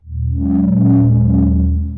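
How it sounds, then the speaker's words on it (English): Warm, sustained R&B synth chord from a Serum 2 preset with added distortion, loud and close, with a low, buzzy, gritty tone that swells in and holds steadily for two seconds. "So now we can actually properly hear that distortion."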